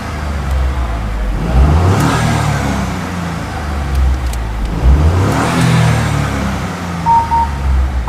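Peugeot 208 with a suspected wet belt failure revved twice in two rising-and-falling sweeps, loud and close, with a rough mechanical note underneath.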